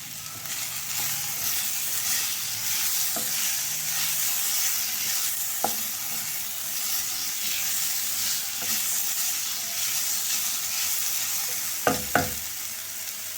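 Garlic cloves frying in hot oil in a pan for a snake gourd kootu, a steady close sizzle with a few sharp clicks and a pair of clatters near the end, no talking.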